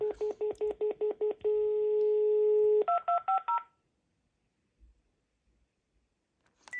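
A rapid run of evenly spaced DTMF keypad dialing tones from a Panasonic KX-TGJ420E phone, then a longer steady tone and a few more beeps, followed by near silence.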